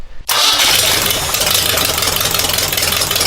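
An air-cooled engine starts up for the first time after a brief silent moment, catching abruptly and settling into a loud, steady, rough running roar that continues without pause.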